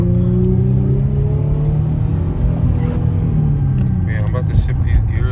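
An Infiniti G35 with aftermarket intake and exhaust, driven at night on a mountain road, its engine droning loudly and steadily with pitch shifting as it pulls, while people talk over it inside the car.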